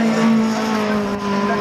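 A rallycross car roaring through the Joker lap and onto a tarmac straight at a Poland Rallycross Cup round, a steady, loud engine drone with a strong sustained pitch, no voices.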